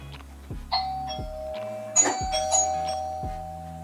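A Loxone Intercom doorbell plays a chiming ding-dong tune, several clear tones over a low rhythmic thumping background, close and fairly loud.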